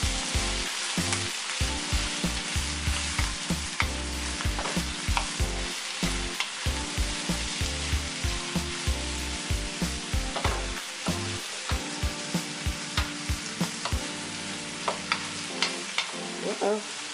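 Vegetables sizzle in hot oil in a skillet while a spoon stirs them, producing a continuous crackling fry punctuated by regular scraping and clacking strokes, close and fairly loud, fading slightly near the end, with no voices.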